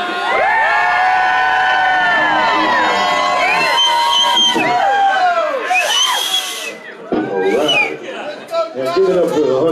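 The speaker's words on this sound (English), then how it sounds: "I want to hear the best you got for the night right now with all the screaming and yelling and everything" A concert crowd at Stages cheers, screams and yells loudly and continuously, with whoops and shrill shouts rising and falling in dense waves and brief dips in intensity.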